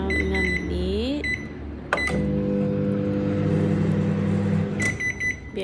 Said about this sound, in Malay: Biarkan je dalam microwave tu.